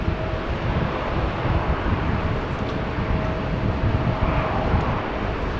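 A Transavia Boeing 737-800 airliner at Amsterdam Schiphol Airport gives a steady, broad engine roar at a distance, mixed with wind rumble, holding constant throughout.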